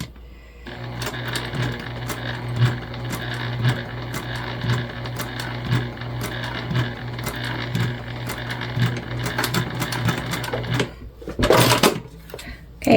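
A sewing machine stitches a fabric gift bag at a steady, fast mechanical rattle for about ten seconds, then stops, followed by a brief handling clatter with no talk.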